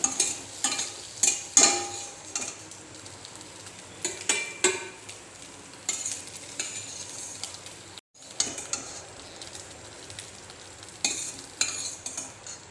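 Boiled chow mein noodles stir-fried in a wok, reused after frying eggs, with steady close sizzling and repeated scraping and clanking of a spatula against the metal, with one brief pause.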